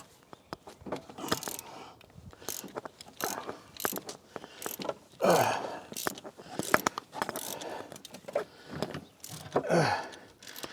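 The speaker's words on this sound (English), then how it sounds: "Now we put a ratchet on it, take them off." Hand ratchet clicking steadily as lug bolts are loosened on a Ford F600 truck, a fast metallic pawl rattle in repeated bursts, close and fairly loud.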